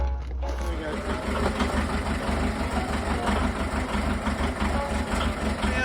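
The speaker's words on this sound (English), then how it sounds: "So currently the engine is running." A narrowboat engine running with a steady low rhythmic chugging idle that starts after a brief quiet moment and continues evenly and fairly close.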